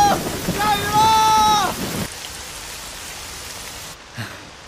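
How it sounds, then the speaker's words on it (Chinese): Steady rain falls in the mountains, a soft continuous hiss that carries on under an excited shout at the start and then stays alone, fairly faint, to the end. "下雨了！"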